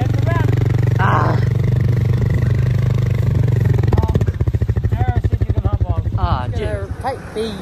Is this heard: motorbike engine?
yes